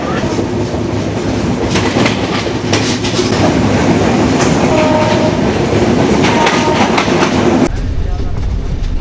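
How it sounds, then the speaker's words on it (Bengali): At night a passenger train bound for Dhaka pulls out of Faridpur with a loud, close, continuous rumble, rhythmic wheel clatter and a brief horn tone, ending abruptly near the close. "বন্ধুরা আমাদের ট্রেনটি এখন ফরিদপুর ছেড়ে যাচ্ছে"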